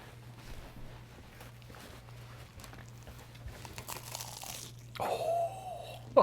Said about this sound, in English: I'll get some crunch on this mic right here.